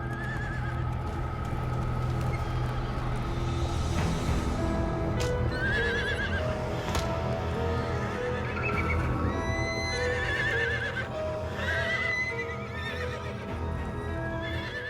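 A frightened prize mare whinnies repeatedly in high, shrill bursts over a busy background with hoof clatter and stable noise, among agitated animals before dawn.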